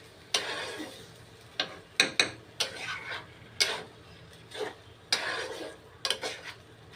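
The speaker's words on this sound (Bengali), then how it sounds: "মশলার সঙ্গে ভুঁড়িটা আমি একটু নেড়ে চেড়ে নিব।" Beef tripe cooked with spices gets stirred in a pot, the spoon scraping and clinking against the metal in irregular, close bursts separated by short quiet gaps.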